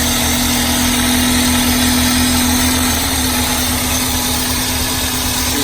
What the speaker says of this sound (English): Now we're going to disconnect the fuel injector and listen for a change in sound.